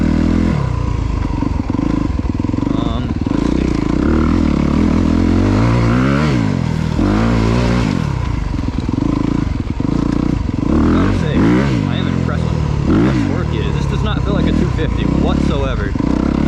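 A 2024 Honda CRF250RX five-speed dirt bike is ridden hard nearby, its engine revving up and down in repeated surges with clattering from the chassis, loud and continuous while a rider talks over it.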